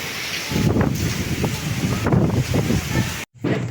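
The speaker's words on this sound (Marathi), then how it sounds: "पावसाळ्यातला हा पहिला पाऊस आहे, इतका मोठा पडला होता" Heavy first monsoon rain with strong wind, a loud rough hiss and patter of downpour buffeted by gusts against the microphone, cutting out briefly near the end before returning.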